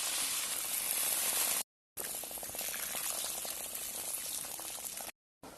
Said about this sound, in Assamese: এয়া শাক উতলি আছে